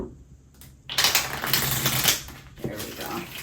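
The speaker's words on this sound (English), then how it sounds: "Can I get a clean shuffle?" Tarot deck given a clean riffle shuffle, a dense, loud, close burst of flapping cards lasting a couple of seconds, with softer handling before and after.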